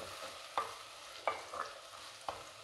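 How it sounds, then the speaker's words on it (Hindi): Tomatoes and green chillies frying in a pan for baingan bharta, with a soft sizzle under a few distinct spatula stirs and scrapes, fairly quiet and without talk. "अब इसमें टमाटर और हरी मिर्च शामिल करेंगे। इनको भी भून लेंगे।"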